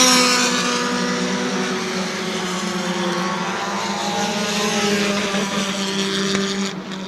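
Bomber-class stock cars roar around New Smyrna Speedway during a race, a loud, sustained engine drone that swells and fades slightly as the pack passes, heard without talk.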